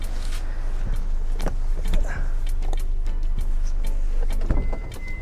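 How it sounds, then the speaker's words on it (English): A car's sliding side door runs open with a motorized whir and mechanical clunks, fairly close, with brief thuds, rattles and faint talk around it. "It's a sliding door, and I think on the left side as well."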